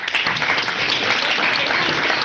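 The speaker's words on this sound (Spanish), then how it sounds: "quiero invitar al curso a que le regalemos un gran aplauso" An audience at a university talk on church, society and culture in Brazil applauds the professor, a short burst of dense, even clapping from many people that fills the whole moment.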